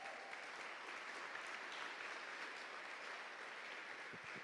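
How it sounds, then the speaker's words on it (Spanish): Steady applause from a church congregation giving praise to God, an even, continuous patter of many hands, fairly faint and unbroken throughout. "Dele un fuerte aplauso a Dios"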